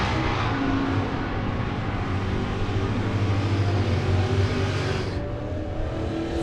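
Drag racing cars, a Malibu and a Cobra Jet, launch and accelerate down the strip together, a steady loud engine roar that holds for several seconds before easing off.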